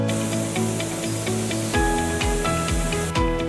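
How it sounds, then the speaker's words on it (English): A portable 2.5 HP gasoline-engine high-pressure washer rated 150-170 bar hisses with a steady spray of water over the buzzing engine hum, the engine note dipping and surging a few times as the spray continues. "Then attach the spray nozzle to the spray gun to begin high-pressure cleaning."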